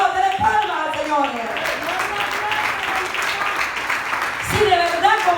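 A church congregation claps steadily together, dense clapping running under a preacher's voice, which is heard at the start and again near the end.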